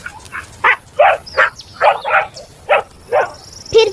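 A wolf in a Hindi horror story snarls in a string of about eight short, sharp, bark-like bursts, evenly spaced and close, with no voices.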